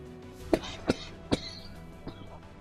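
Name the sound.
coughing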